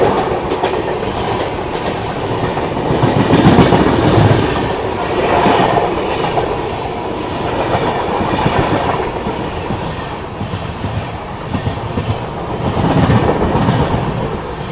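The Sachkhand Express rolls past at close range, heard from a moving train. Loud rail rumble carries rhythmic clickety-clack of wheels over joints and surges in waves for the whole stretch, with no voices.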